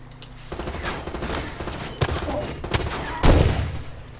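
Dragunov rifle shots in the video game Far Cry 2 crack out in several sharp bursts over a busy battle backdrop, the loudest blast landing near the end.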